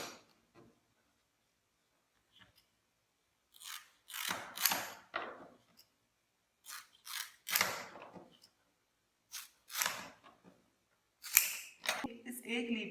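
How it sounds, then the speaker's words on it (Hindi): A snake plant leaf is cut into five roughly equal pieces, with a series of sharp, crisp snipping bursts in irregular clusters, close and fairly loud, separated by silent gaps. "इस एक लीव को हमने लगभग एक ही साइज के 5 टुकड़ों में काट लिया है।"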